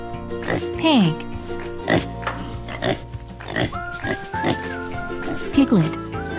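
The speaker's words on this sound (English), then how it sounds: "a baby pig is a piglet." A pig oinks and grunts in short bursts, one near the start and another near the end, over light, bouncy backing music.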